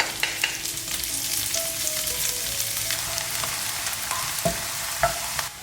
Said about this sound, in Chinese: 继续炒香